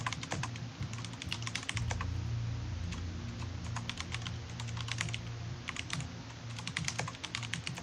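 Steady typing on a computer keyboard, a fast stream of close, crisp key clicks in irregular bursts with no talk over it.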